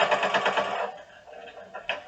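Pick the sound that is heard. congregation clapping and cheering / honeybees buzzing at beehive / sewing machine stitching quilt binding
sewing machine stitching quilt binding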